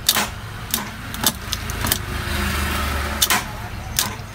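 A car starter clicks and whirs in short repeated bursts with a low rumbling drone, but the engine never catches; the starter motor is dirty.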